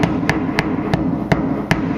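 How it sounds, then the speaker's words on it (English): Six sharp metallic hammer taps land at a steady, unhurried pace on the rusty hollow sheet-metal body of a Ford F-350 Super Duty truck, close up, over a low background rumble. "I'll give her a little taparoo here with the hammer and see what happens"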